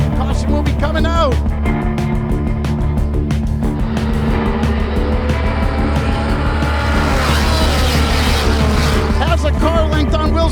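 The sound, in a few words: race cars on track, car sliding sideways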